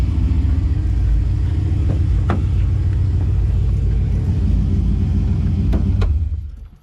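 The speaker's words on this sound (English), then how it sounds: "That solo exhaust sounds awesome, as always." Deep, loud single-exhaust rumble from a nearby idling Pontiac G8 GT, steady throughout with a couple of faint clicks, fading out at the end.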